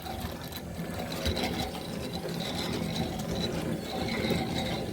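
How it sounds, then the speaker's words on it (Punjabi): A car windscreen wiper motor fitted to a homemade scraper rig runs on its own, giving a steady, continuous mechanical whir with a faint ratcheting grind, close and fairly quiet, with no voices. "ਇਹ ਵੇਖਿਓ ਚੱਲਦੀ ਹੁਣ ਆ ਵੇ ਮੋਟਰ ਆਪਣੇ ਆਪ ਹੀ ਚੱਲਦੀ ਆ"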